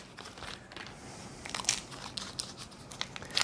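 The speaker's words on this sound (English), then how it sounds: "we'll take the peels off, take the wrappers off, and we'll place them right down on top of this cookie" Paper wrappers peel off Reese's peanut butter cups in a home kitchen, soft crinkling at first, then a few sharper crackly bursts of rustling paper close by.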